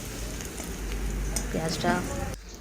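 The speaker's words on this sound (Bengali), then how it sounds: "পেঁয়াজটা ভাজা হয়ে গেল আমার।" Oil sizzles and crackles steadily as onions fry, with a soft stirring scrape partway through and a voice briefly speaking over the cooking.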